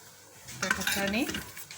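A spoon stirs blended garlic, ginger and onion with tomato and pandan leaves in a pot for mutton biryani, making soft scraping and sizzling sounds that swell midway, close and fairly quiet.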